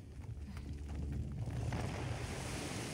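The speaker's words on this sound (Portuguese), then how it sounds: "Outra cachoeira." Waterfall in the video game Uncharted The Lost Legacy gives a steady broadband rushing roar that swells after the first second and holds, with no talk.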